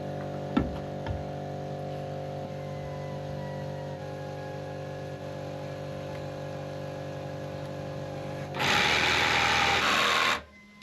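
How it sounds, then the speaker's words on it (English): A jigsaw cuts a piece of wood during a sailboat refit, giving a loud, rough buzzing burst for about two seconds near the end, after a long stretch of steady background compressor hum and a couple of faint knocks. "let me cut this piece of wood"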